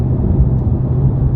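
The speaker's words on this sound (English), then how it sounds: "It's not really supposed to be quiet, but there's a shitload of road noise." Loud, constant low rumble of tyres on the road heard from inside a Porsche 911 GT3 sports car, droning steadily with no voices.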